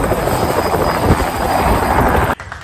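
Helicopter on a sightseeing ride over Niagara Falls, heard as a loud, dense rotor and engine roar with steady chopping pulses, close and continuous, then abruptly dropping away near the end.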